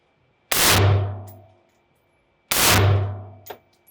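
Two sharp metallic clangs about two seconds apart, each ringing out with a low hum that slowly decays, like an AR-15 rifle round striking a steel target downrange.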